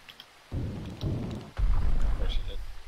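Steady rain with low rumbling surges like thunder in the modded Minecraft video game, building louder in the second half, with a few faint higher blips over the wash.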